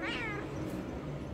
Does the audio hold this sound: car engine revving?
no